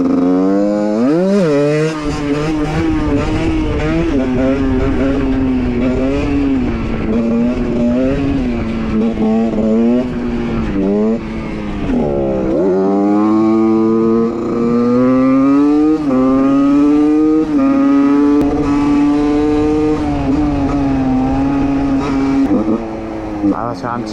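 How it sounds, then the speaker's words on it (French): A motorcycle engine revs hard for a wheelie, climbing and falling in pitch through long sustained pulls with a brief dip midway, loud and close throughout. "On va faire un petit wheeling là."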